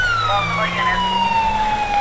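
Police siren from GTA V's LSPDFR mod wailing steadily with a falling pitch sweep as the tone changes, loud and continuous over road noise from a moving patrol car.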